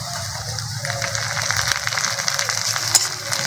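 Chopped tomato added to well-fried onions in an oil-filled pan, giving a steady sizzling crackle that stays even and close throughout, with a brief sharper pop near the end.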